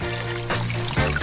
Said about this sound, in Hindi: और अब हमें इसे पानी से भरना है